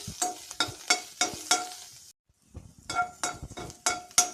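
Ingredients for a basale (Malabar spinach) leaf tambuli roast dry in a hot pan, with rhythmic scraping stirs and light sizzling, a brief pause midway, then more brisk stirring strokes close by.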